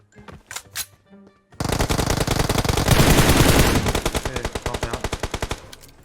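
Automatic gunfire in the battle-royale game PUBG Mobile: a few scattered shots, then a loud, dense burst of rapid machine-gun fire that keeps rattling and slowly thins into spaced pulses.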